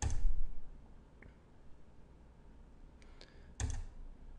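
A few sharp clicks sound while buttons on a web page are pressed, one early, a pair near the middle and a louder one toward the end, set against faint room hiss with no talking.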